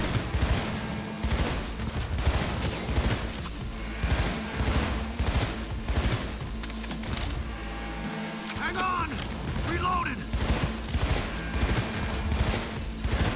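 Rapid shotgun blasts and chaotic gunfire in the cyberpunk game Cyberpunk 2077, loud and repeated in dense bursts over a constant din of combat, with voices shouting and talking now and then.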